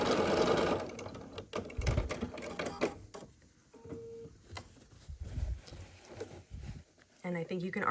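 A sewing machine stitches a quilt block in short bursts, its rapid mechanical chatter starting and stopping with pauses for handling fabric, close and moderately loud.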